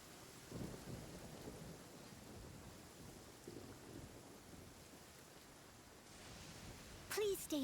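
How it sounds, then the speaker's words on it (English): Steady rain pours in a Genshin Impact thunderstorm, with low thunder rumbles rolling through and a brief voice near the end. "Please stay indoors until the storm passes."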